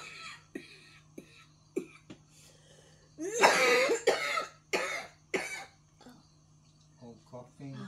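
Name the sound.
coughing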